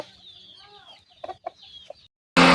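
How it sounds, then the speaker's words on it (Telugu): A fighting rooster of the Mettavatam breed gives a few soft, close clucks and low chirps amid near quiet, followed abruptly by a loud burst of music at the end. "ఇది మెట్టవాటం కోడి"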